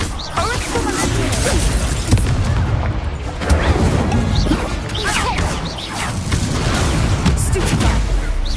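Arresto Momentum spell cast during combat in a Harry Potter video game, a dense run of booming impacts, crashes and whooshes over steady game noise, loud and close, with a player's voice speaking over it.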